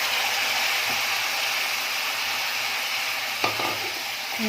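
Chopped vegetables and beans hitting fried onions in a hot pan for an Alibag-style bean amti, giving a steady loud sizzle throughout with stirring and a brief clatter near the end, no talking.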